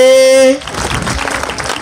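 Applause at a school thanksgiving event: a loud held tone cuts off, then a crowd claps in a dense, steady patter.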